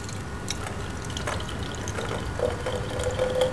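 Water pours steadily into a graduated conical flask on a lab bench while an acetate buffer is prepared, a continuous splashing hiss with small bubbling gurgles that grow slightly louder near the end.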